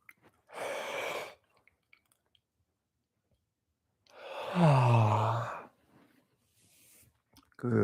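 A big, drawn-out vocal yawn during a relaxation and stress-reset exercise, rising into a voiced groan that slides downward in pitch, preceded by a softer breathy inhale, close to the listener with silence between.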